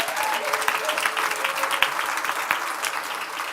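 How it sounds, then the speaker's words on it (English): Applause from an audience for the speaker's mother and stepfather seated up front, a dense steady wash of clapping filling the whole stretch at even loudness. "please give a round of applause to my mother and my stepfather right here"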